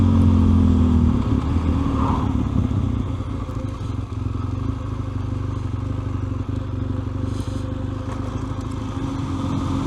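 A motorcycle rides along a rural backroad near Oudtshoorn with a steady, loud engine drone and wind rush throughout, the pitch easing slightly after the first second.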